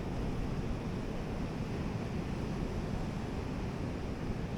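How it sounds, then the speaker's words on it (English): Broad, steady wash of ocean surf on the beach at Bandon, Oregon, continuous and fairly loud with some wind buffeting the microphone, no voices. "just enjoying the ocean and the sounds it provides"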